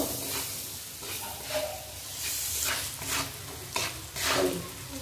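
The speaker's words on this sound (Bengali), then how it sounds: "হলুদ লবণ দিয়ে শুকনো লঙ্কা, পেঁয়াজ কুচি, রসুন কুচি সুন্দর করে একটু লাল লাল করে ভেজে নেব।" Dried chillies, chopped onion and garlic fry with turmeric and salt in hot oil, a close sizzle broken by several bursts of scraping stirring against the pan, with no voices.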